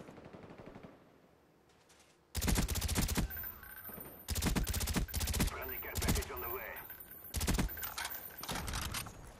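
FAMAS rifle fire in Black Ops, loud close bursts that come in several clusters after a quieter stretch, with sharp repeated cracks and quick gaps between the volleys.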